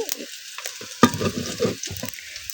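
Chitoi pitha batter made without rice flour sizzles as it is poured into the cups of an appam pan, with a sharp hiss that swells after a clatter and then quiets.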